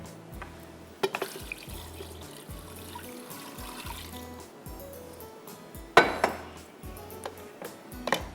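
Water poured into a pressure cooker while making biryani, a steady trickle and splash with repeated low gurgling pulses and a couple of sharp metallic clinks from the pot, close and fairly quiet.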